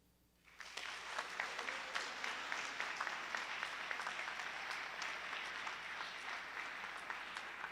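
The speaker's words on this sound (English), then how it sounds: "Can you give them all another round of applause, please?" An audience at a school event bursts into applause after student speeches, a sudden onset of many hands clapping that holds as a steady, moderately distant wash of crowd clapping.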